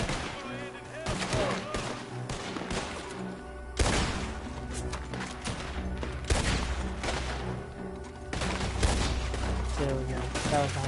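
Gunfire in Red Dead Redemption 2, a mix of single sharp shots and quick bursts ringing out repeatedly over game music, loud and close.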